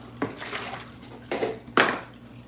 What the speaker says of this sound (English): But right now we'll empty our water.